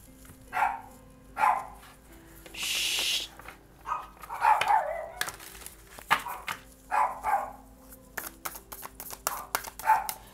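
A dog barks again and again at moderate distance, with repeated sharp bow-wow bursts in an uneven rhythm, plus a brief rushing noise in between.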